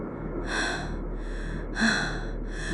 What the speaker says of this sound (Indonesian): Tiba-tiba dari kegelapan sudut ruangan terdengar suara nafas berat.